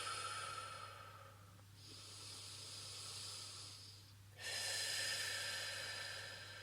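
Slow, deep breaths during a guided sophrology relaxation session: a long airy exhale, a quiet pause, then another soft hissing breath, close and intimate with no talk.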